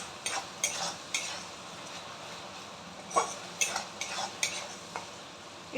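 Garlic chicken being tossed in a pan, with a faint sizzle under a series of sharp metallic scrapes and clinks of the spatula against the pan, coming in quick bursts.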